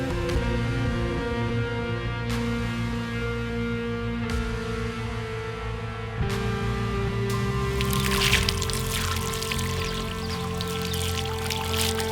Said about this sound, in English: Now I'm going to simulate the rain.